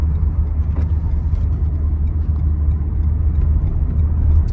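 A steady, low engine and road rumble comes from inside a Renault Megane driving through a roundabout at about 38 km/h. It is even and continuous, with no knocks or rattles.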